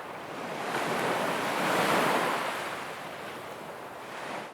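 Gentle ocean waves wash onto the shore in a soft, steady roar that swells and eases, with light wind and no voices.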